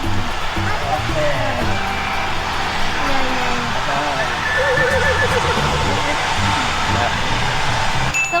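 A horse whinnies during a ride, with a loud neigh rising over hoof clip-clop and people talking nearby, plus faint traffic noise in the background.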